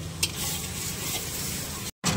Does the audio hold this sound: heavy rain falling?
no